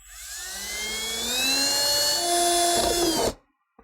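A power drill with a 1/8 inch bit whines steadily for about three seconds as it punches through a trim piece on a Jeep Wrangler, its pitch climbing slightly as it bites through, then cuts off abruptly.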